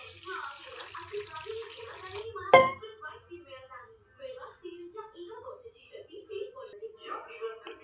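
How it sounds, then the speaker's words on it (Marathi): Water poured from a small metal pot onto soaking rice and lentils, a sharp metallic clink followed by faint splashing, heard under someone speaking close by. "दोन तांबे पाणी घालते"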